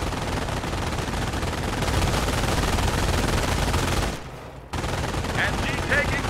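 Dense, continuous gunfire rattles through a World War II battle in Company of Heroes during the defense of Oosterbeek, with machine guns and rifles loud throughout, a brief lull near the end before the shooting resumes.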